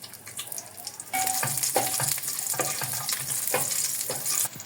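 Cinnamon sticks, rosemary sprigs, bay leaves, dried lime, cardamom and cloves dropped into hot fat in a pot for a Saudi lamb kabsa, bursting into a loud, crackling sizzle with repeated stirring scrapes, close up and without speech.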